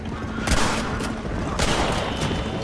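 Two or three sharp gunshots in Red Dead Redemption, close and loud, cracking out about a second apart over a dense rumbling game background.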